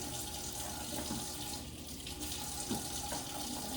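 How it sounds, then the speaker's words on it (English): Collard greens rinsed under a running faucet, a steady close rush of water pouring into a sink with a few small splashes and thumps as the leaves are handled. "I'm rinsing out my greens"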